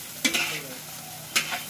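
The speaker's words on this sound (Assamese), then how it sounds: "এতিয়া চাউলটো ভাজি থকা আছে তো চাউলটো ভাজি থকাৰ ওপৰতে আকৌ এক্সট্ৰা কৈ মানে কেঁচা পিয়াজটো দিছে" Rice and meat frying in a pan with onion and ginger, a steady close sizzle broken by two sharp scraping stirs about a second apart.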